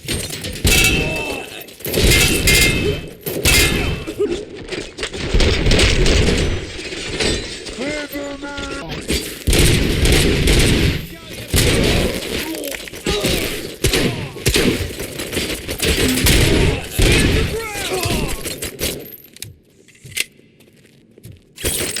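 Heavy gunfire in RoboCop: Rogue City rings out in loud, rapid bursts with shattering and metallic impacts, under shouted voices, before dropping away near the end.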